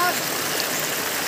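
River water flowing steadily at a riverbank where people gather freshwater crabs, a continuous broadband rush with no talk.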